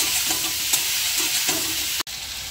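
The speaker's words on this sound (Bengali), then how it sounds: "লাল মির্চের গুঁড়ো দিয়ে দিচ্ছে। দিয়ে একটু ভালো করে নাড়াচাড়া দিয়ে নেবে।" Chicken with chopped tomato and red chili powder sizzles steadily in a pan for chilli chicken, with soft, rhythmic stirring scrapes and a sudden brief drop near the end.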